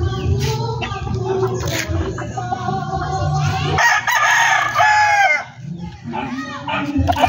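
A rooster crows loudly amid clucking backyard gamefowl, with a busy farmyard hum and some background voices.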